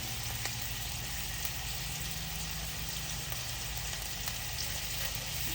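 Onions fry in a pan for a patty melt, giving a steady, close, continuous sizzle with no talking.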